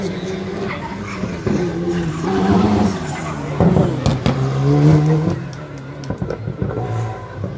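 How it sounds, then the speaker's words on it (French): A Citroën C3 Rally2 rally car on a shakedown special stage at the Rallye d'Antibes 2022, its engine revving and surging with tire noise as it passes at moderate distance, under a commentator's voice. "la C3 Rallye 2 du CHL Sport Auto numéro 9."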